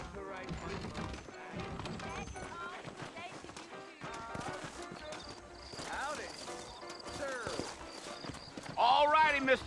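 Horse hooves clip-clop steadily in a Red Dead Redemption game scene, a rhythmic, fairly close trotting under ongoing talk, with a horse whinnying loudly near the end.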